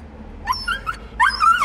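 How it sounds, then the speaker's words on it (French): A Pomsky dog lets out two short, high-pitched whines close by, with a brief gap between them. "C'est le genre de couinement qui est encore une fois assez caractéristique des chiens nordiques."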